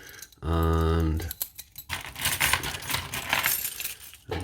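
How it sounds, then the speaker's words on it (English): A tub of American keys is shaken and rummaged through, giving a busy metallic jangle and clinking that runs for several seconds close by, after a brief voiced sound at the start. "these are all my American keys."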